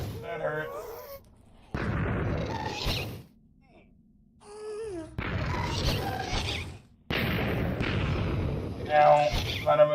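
Explosions in a steampunk video game come as several loud, booming bursts separated by short quiet gaps, with creaking and mechanical clatter between them and someone speaking over parts.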